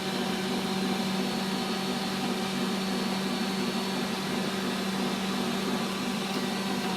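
An electric juicer whirs steadily while making orange juice, a constant loud motor drone with a buzzing hum that never pauses for the whole stretch.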